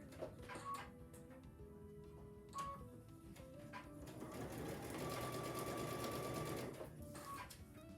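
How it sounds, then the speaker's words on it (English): Sewing machine stitching a quilt block panel, a close, fairly quiet mechanical run with small clicks and handling noises, gathering into a steadier, busier stitching burst toward the end. "then you're going to sew that together"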